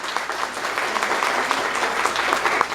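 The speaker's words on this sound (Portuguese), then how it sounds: "Eu acho que uma salva de palmas, vamos acolhê-los aí para esse ano." An audience at a plenary meeting of a children's rights forum in Porto Alegre applauds, steady brisk clapping from many hands filling the room, close and even throughout, with no voices standing out.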